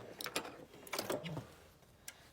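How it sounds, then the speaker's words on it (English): Sewing machine running a basting stitch on a fabric table runner: short, close bursts of mechanical whirring and clicking, quiet and brief with a small tick near the end. "I'm going to do a basting stitch and see if it works now"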